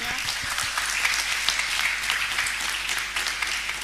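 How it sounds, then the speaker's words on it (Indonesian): An audience applauds steadily at a university campus event in Cirebon, Indonesia, dense clapping filling the room at an even level from start to finish, with no voices standing out. "Tepuk tangan untuk kita semuanya."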